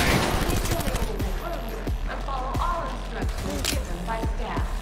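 Rapid gunshots ring out in the video game Cyberpunk 2077, sharp cracks repeating irregularly over a low rumbling game soundscape, with a voice talking faintly underneath.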